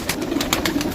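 Bird calls from a Banka pigeon, a short series of soft, rhythmic coos repeated close by, with no talking.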